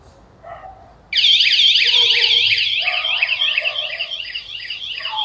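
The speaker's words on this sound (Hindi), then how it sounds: "तो यहाँ पर अलार्म बजना स्टार्ट हो गया है" A motorcycle anti-theft alarm gives a couple of short beeps, then bursts on loudly and keeps wailing in rapid, warbling electronic tones.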